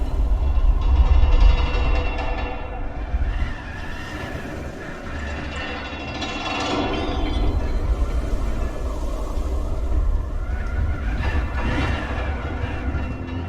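A metro train running on rails, a steady loud low rumble with rolling wheel noise and faint screeching overtones that carries on for the full stretch without a voice.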